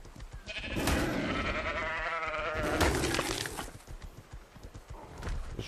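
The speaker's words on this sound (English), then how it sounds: "No, that's the sheep." In a video game, a sheep bleats in a long, loud, wavering call, followed by shorter shuffling and clopping sounds with no speech.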